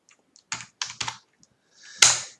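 Several quick keystrokes on a computer keyboard, close and clear in a quiet room, coming in small irregular clusters with a louder final clack.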